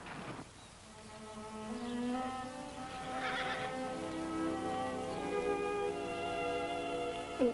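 A wild horse gives a long, wavering whinny that rises and trails off, loud and fairly close with faint background noise.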